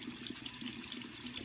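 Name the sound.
hot tap water running over makeup brush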